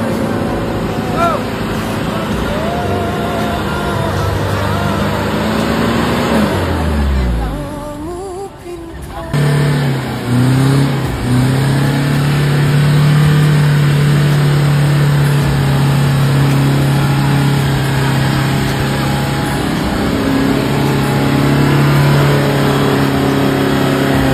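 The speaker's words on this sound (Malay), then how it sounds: "Sebagian lori kami yang di depan tu dah sangkut" A lorry's engine revs hard and loud while stuck on a slippery road just after rain in Aceh, the pitch climbing and falling, then holding a strained steady drone.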